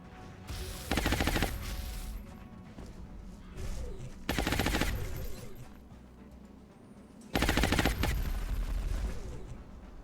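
Three separate bursts of automatic gunfire ring out in the XCOM Long War video game, each a loud, sharp volley lasting under a second, spaced a few seconds apart over quieter background ambience.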